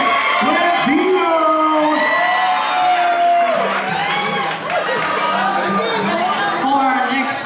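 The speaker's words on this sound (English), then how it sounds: "How about a big round of applause for the phenomenal Miss Janet Blandino?" Audience at a benefit fashion show cheering and whooping for a featured woman, loud overlapping shouts and excited voices with some clapping mixed in, close and sustained throughout.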